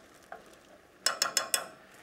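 Cream and French mustard sauce cooking in a pan, heard as a faint soft clink, then four quick, evenly spaced scraping strokes of stirring close by, with no talk.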